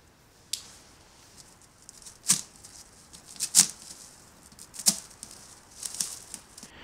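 Compressed tires being cut apart, heard as several sharp, brief cutting and snipping bursts at irregular intervals over a quiet background, with no talking.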